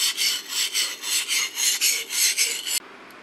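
Rhythmic rasping strokes of a sashimi knife blade drawn across a whetstone, about a dozen close, loud passes before abrupt quiet.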